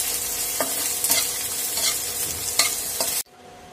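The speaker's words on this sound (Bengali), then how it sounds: "পেঁয়াজ মরিচ রসুন ভাজা হয়ে গেছে" Onion, green chili and garlic fry in hot oil in a pan, a steady bright sizzle with several scraping stirs of a spatula, close and alone, cut off abruptly near the end.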